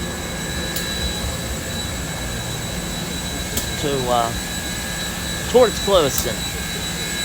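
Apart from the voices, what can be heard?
steam locomotive boiler running on the U.S. Sugar Express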